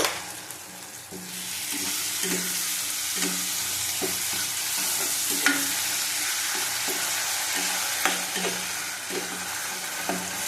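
Chana dal sizzles as it is sautéed in oil, with a steady bright fry under rhythmic scraping strokes of a spoon against the pan, close up and continuous.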